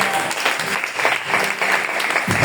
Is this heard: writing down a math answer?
no